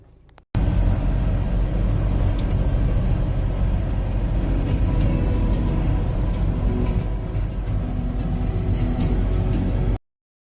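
Interior road rumble of a car driving near Malkapur, a loud, steady low drone of engine and tyres with faint rattles, running continuously after a short quiet start and cutting off abruptly.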